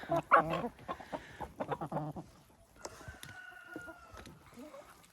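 Domestic hens cluck close by in a short run of loud, choppy calls, then softer scattered clucks and coop noises follow while the flock settles, with no talking.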